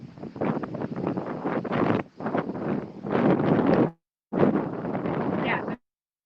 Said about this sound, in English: the wind is freezing.